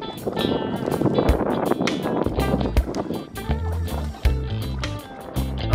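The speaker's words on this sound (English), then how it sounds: "Listen to that wind ripping." Strong wind rips across open water during a windy day of wade fishing at Rockport, Texas, buffeting the microphone in loud gusty bursts that swell and drop, with some splashing and thumps underneath.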